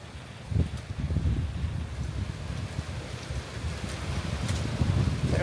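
Strong gusty wind buffets the microphone at a mountain campsite, with low rumbling surges and rustling that rise and fall over several seconds.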